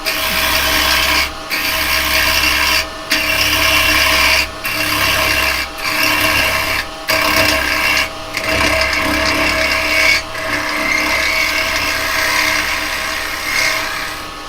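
A woodturning tool cuts across a spinning yew piece on a lathe, giving a loud, continuous abrasive shearing sound with a low motor drone. Brief regular dropouts break it as the tool lifts between passes, and no one speaks.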